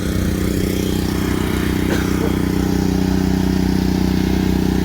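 A power washer spraying house siding gives a loud, steady droning hum that holds without break for the whole stretch, with no voices.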